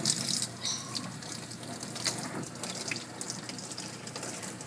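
Running water from a tap rinsing a kitten during a bath, a steady close splashing hiss with small irregular splatters and no talk.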